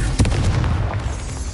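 A fiery Confringo spell explodes in the Hogwarts Legacy game: a punchy boom just after the start, then a sustained low rumble with crackly bursts trailing off, loud and close.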